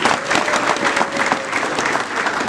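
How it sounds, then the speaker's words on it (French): Steady, dense applause from an audience at a political party book presentation, loud and continuous clapping filling the room without pause. "je vais demander à l'assistance d'applaudir pour la jeunesse de notre parti"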